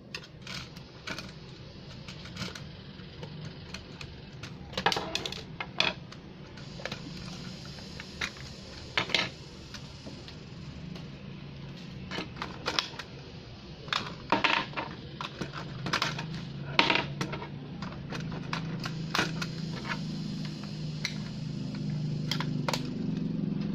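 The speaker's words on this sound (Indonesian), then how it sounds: "Kita buka dulu bautnya." Bolts are unscrewed from the battery cover of a toy Iron Man Hulkbuster robot. Close, small metallic clicks and taps come at irregular intervals over low handling noise, with no speech.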